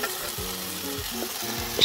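Potatoes sauté with onion in a pan, giving a low sizzle with scraping and stirring strokes against the pan across a couple of seconds, close and moderately loud, with no voices.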